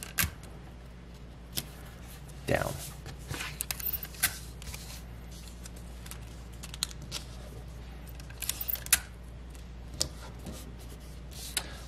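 Tape is pulled and pressed to fix paper down onto fabric during a garment alteration, giving quiet, sparse rustles, scratches and short tearing clicks close by over a low steady room hum.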